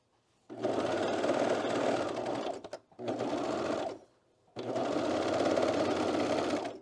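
A sewing machine stitches through a thick fabric hood with cat ears, running in three steady bursts separated by short pauses, close and alone.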